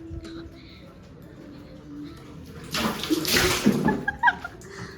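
Cold water splashes out in a short loud burst poured over someone from a drum at Holi, following a quiet stretch with faint background voices.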